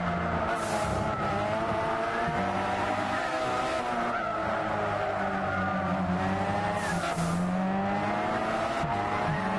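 Race cars from the Gran Turismo 6 video game braking at Silverstone, engines droning steadily with tire squeal and skidding rising and falling as they pass, loud and continuous with no talking.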